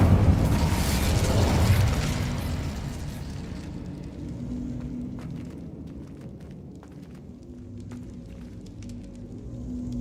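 Incendio fire spell cast in the Hogwarts Legacy PC game: a loud fiery blast bursts out over the first two seconds, then settles into a steady rumbling crackle with faint clicks running to the end.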